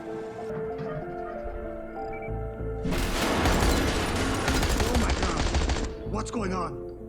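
Dense burst of rapid gunfire rattling for about three seconds in a video game as robbers are shot, loud and close over a steady background hum, with a short sharp tail at the end.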